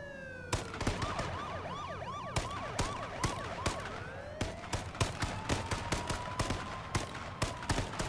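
Police siren wailing and sweeping in pitch in the video game H1Z1, sounding over rapid sharp gunshot cracks that repeat throughout at moderate distance.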